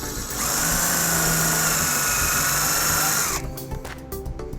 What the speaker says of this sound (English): using a 1/4-inch socket we'll put our self-tapping screw into place